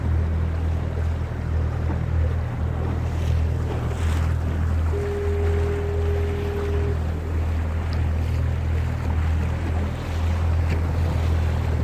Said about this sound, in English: Fast ocean liner coming in.